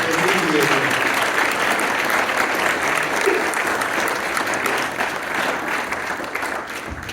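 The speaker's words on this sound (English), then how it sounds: "that deserves a round of applause" Warm round of applause for graduates at a ceremony, a thick crowd of hands clapping loudly and evenly before gradually tapering off.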